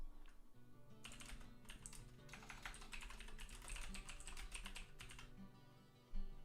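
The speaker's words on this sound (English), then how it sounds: "I'm typing." Fast, irregular clattering of computer keyboard keys in bursts and pauses, fairly quiet and close, with no talking and a faint steady hum underneath.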